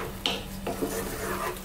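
Prawn curry stirred in a pan over medium heat, a utensil scraping and rubbing against the pan in a short, close, steady passage with a couple of light knocks.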